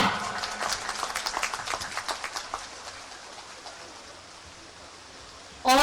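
An audience applauds a minister after his speech at a government event in Sahibganj, Jharkhand. Rhythmic clapping is strong at first, thins and fades over a few seconds, and a sudden loud burst of noise comes at the end.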